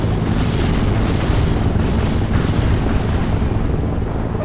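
Artillery barrage in the World in Conflict war game: a dense, continuous roar of heavy booming blasts and rumbling, loud and unbroken throughout, with no speech.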